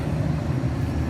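A loader rickshaw's engine starts up and settles into a steady, close, loud low rumble that continues without a break.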